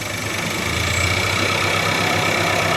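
A car engine runs with its intake roaring in a steady, loud, even drone, the driver in eco mode with manual shifting about to be used. No one speaks.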